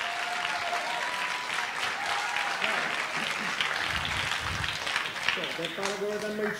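Applause from an audience at a music review event for Dario Zigiotto, dense sustained clapping across the whole stretch with a voice briefly rising over it near the end.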